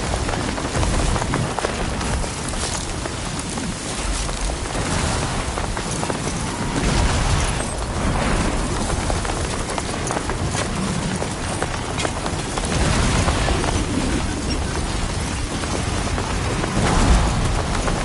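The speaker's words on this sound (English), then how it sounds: "Storm's coming through." Heavy rainstorm in the video game Death Stranding 2, a dense continuous patter and rush of rain with gusty swells and some footstep-like thuds underneath.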